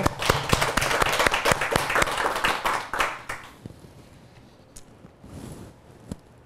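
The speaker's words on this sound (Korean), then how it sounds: "일단 용기를 내라고 박수 한번 쳐줄까요?" During a Buddhist monk's prayer session, listeners clap briefly in sharp, close, irregular claps for a few seconds, then it dies away to quiet with a couple of stray taps.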